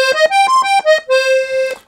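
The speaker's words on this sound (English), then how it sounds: "Then our Italian musette." Beltuna Studio III accordion on its Italian musette register, a short bright melodic phrase of several reedy, wavering notes played close and alone, ending on a held tone.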